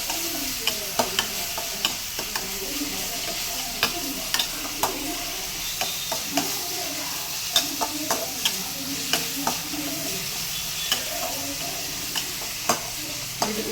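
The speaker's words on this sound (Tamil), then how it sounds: "நல்லா வெங்காயம் பூண்டு எல்லாம் வதங்கட்டுங்க." Onion and garlic sautéing in a pan for a Tamil home-cooked Sunday meal, with a steady close sizzle broken by frequent sharp clicks and scrapes of a spoon stirring against the pan throughout.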